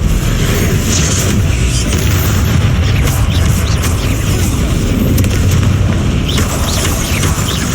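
A Confringo spell blast in Hogwarts Legacy sends out a loud, sustained booming rumble of fiery explosive noise that fills the whole span without letting up.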